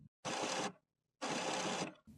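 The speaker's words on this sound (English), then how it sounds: "Listen for the paper pick rollers." HP printer paper pick rollers turning, two close mechanical whirring bursts of about half a second each separated by a short pause, with a third starting at the end, alone and fairly quiet.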